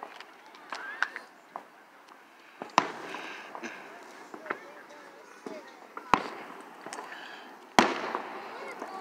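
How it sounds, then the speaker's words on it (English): Fireworks burst at a Fourth of July show, scattered cracks and booms popping at irregular intervals, some sharp and near, others softer and farther off. "she's watching the fireworks with me"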